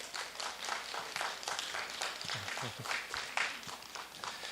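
An audience at a children's composer certificate ceremony claps in a sustained round of applause, dense and steady with slight swells, heard from within the hall.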